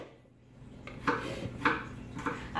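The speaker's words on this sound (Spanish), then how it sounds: "Pero mientras tanto yo sigo picando el mentado ajo." Knife chopping garlic on a board while cooking pasta with shrimp, a few close, sharp, evenly spaced cuts against quiet kitchen background.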